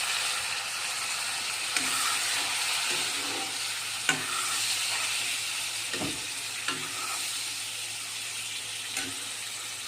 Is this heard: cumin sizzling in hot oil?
yes